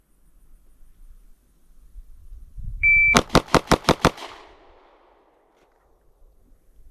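Glock 43X pistol firing 124 grain +P ammunition outdoors: six loud, evenly spaced gunshots in quick succession after a short electronic beep, with a faint rumble before and a fading tail after.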